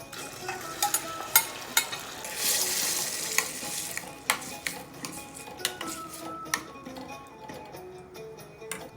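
Tomatoes going into olive oil in a pot for Moroccan matbucha, with a burst of sizzling and frying near the start, then scattered clinks and scrapes of a utensil against the pot as the mix is stirred.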